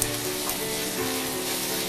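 Ground ginger and garlic, onion and green chilli sauté in a hot pan with a loud, constant, close sizzle and a few soft stirring scrapes.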